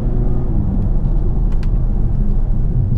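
A 2017 Mazda 6 with an automatic transmission, heard from inside: steady loud engine drone with low rumble through a quick upshift, with no voices.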